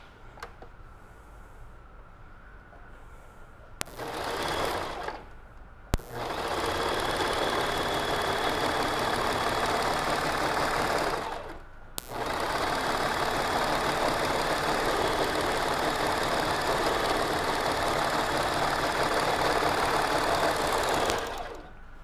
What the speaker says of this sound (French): je vais venir tout le tour suivre ma couture pour venir faire un beau petit surjet